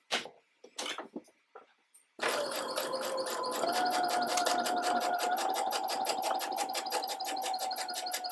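A sewing machine runs a straight stitch through lace fabric, starting after a few soft handling clicks and then running as a fast, steady mechanical rattle of rapid repeated needle strokes, close and alone.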